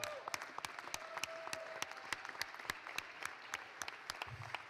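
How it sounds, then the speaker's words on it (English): Applause at a Cleveland City Council meeting honoring Ted Ginn Sr., a steady wash of clapping with sharp individual claps standing out, moderately near and continuous throughout. "So I want to give Ted Ginn Sr. a round of applause."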